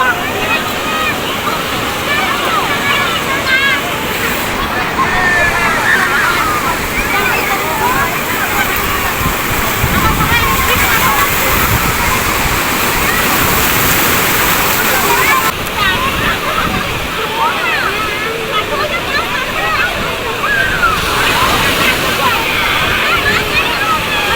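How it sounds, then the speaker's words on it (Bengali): Big sea waves at Digha beach crash and wash loudly and steadily throughout, a broad continuous roar of surf with surges, and people talking faintly underneath. "বাবা কি ঢেউ"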